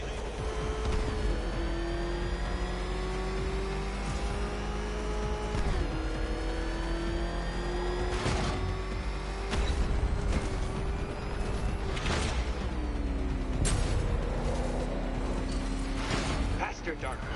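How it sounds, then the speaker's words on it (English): A Batmobile engine in Batman: Arkham Knight drones and revs continuously with shifting pitch, loud and close, with sharp crashes and impacts breaking in now and then over steady game music. "Can that ramshackle motor handle this?"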